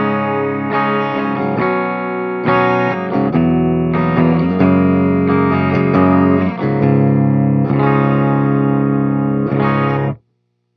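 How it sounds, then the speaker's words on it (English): A Peavey Rockmaster electric guitar in a clean tone, recorded direct with no processing, plays a series of ringing chords and notes for about ten seconds before stopping abruptly. "And this is the clean tone."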